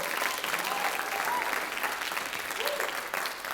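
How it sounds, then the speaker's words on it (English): An audience at a closing ceremony in Amman applauds the staff, a sustained, even burst of clapping with a few voices faintly audible beneath it. "So big round of applause there."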